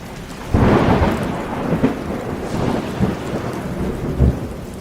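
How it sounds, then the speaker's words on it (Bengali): A loud thunderclap breaks over steady rain on a stormy monsoon flood night, its crash followed by a long rolling rumble and a second heavy boom near the end. "আর ঠিক সেই মুহূর্তেই বিকট শব্দে আর একটা বাজ পড়ল হারান মাছওয়ালার ঠিক মাথার উপর।"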